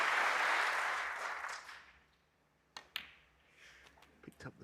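A snooker tournament crowd at the Players Championship cheers and applauds loudly, then fades away, followed by a few sharp isolated clicks and taps near the end.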